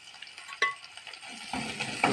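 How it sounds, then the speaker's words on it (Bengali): Onions and chillies frying in a pan, a close, soft sizzle with a few brief stirring scrapes, swelling slightly louder toward the end. "আমি এখন কিছু পেঁয়াজ আর মরিচ ভেজে নিচ্ছি।"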